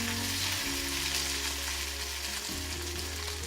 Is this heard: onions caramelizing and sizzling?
yes